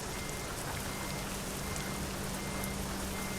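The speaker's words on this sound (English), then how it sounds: "there's a beautiful, foggy, snowy, rainy day in London" Steady rain during a foggy, wet day in London in the truck-driving game Euro Truck Simulator 2, a fairly faint, even patter with no voices.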